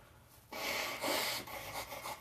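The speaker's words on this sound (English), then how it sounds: "Can I blow my nose live?" A short, forceful nose blow bursts out after a quiet moment, a breathy honking rush that sputters on for about two seconds.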